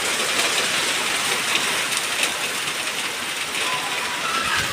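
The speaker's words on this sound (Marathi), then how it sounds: "मस्त पाऊस पडायला झाले सुरुवात वांगणीमध्ये" Steady heavy rain pours down in Vangani, a dense continuous hiss with no breaks, close and fairly loud.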